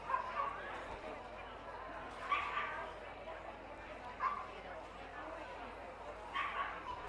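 Small German Spitz Klein dogs in the ring at the Blackpool dog show let out a few sharp, distant yaps at spaced intervals, heard faintly under a commentator's steady voice and hall ambience.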